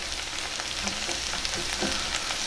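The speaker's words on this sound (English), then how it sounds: "Let our onions and our garlic sweat down for our marinara too." Onions and garlic sweating in a pan for marinara sauce, giving a dense, even sizzle that holds steady throughout with faint stirring taps and no voices.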